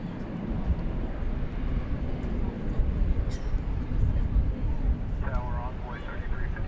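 An American Airlines jet beginning its takeoff at DFW Airport, a steady broad engine roar with low rumble held throughout at moderate distance, while a radio voice talks over it near the end.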